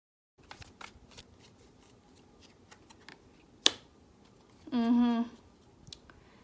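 Tarot cards shuffled and pulled from a deck, giving soft scattered flicks and taps with one sharp snap and a brief rippling riffle near the end, fairly close and quiet, with no talking.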